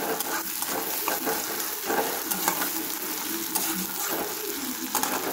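Chopped garlic, ginger and onion sizzle in hot oil in a pan, a steady crackling fry broken by occasional stirring scrapes, close and fairly loud with no talking.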